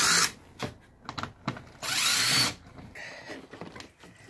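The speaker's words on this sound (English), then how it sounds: "So we're going to use a Torx head to get them out." Power driver with a Torx bit backing screws out of a Mustang door panel: several short, loud whirring bursts separated by pauses and light clicks, plus one longer sustained run.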